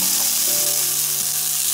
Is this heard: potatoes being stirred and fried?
yes